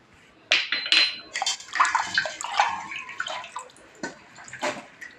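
Mango pieces are swished and stirred in a bowl of water, giving close splashes, sloshes and light clinks against the vessel in irregular bursts.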